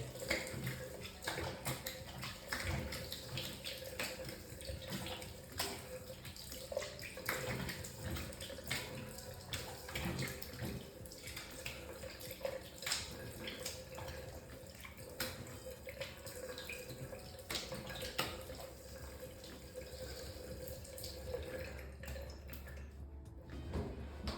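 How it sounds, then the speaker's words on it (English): A straight razor rinsed under running tap water, a steady faint splashing stream with small clinks and drips, close and low in level, with no talking. "Just gonna rinse it off."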